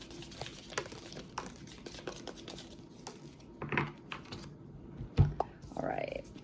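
Tea leaf oracle cards are shuffled by hand, making soft papery flicks and taps that are close and uneven, with a heavier knock and a brief bit of talk near the end.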